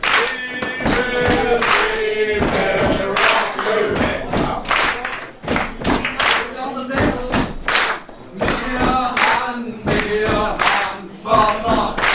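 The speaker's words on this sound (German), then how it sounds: "Das heißt Stampfen, Klatsch. Alle mitmachen." At the Basel Fasnacht, a crowd does a warm-up of rhythmic stomping and clapping together, with loud, regular thuds and claps repeating in a steady beat while voices shout along.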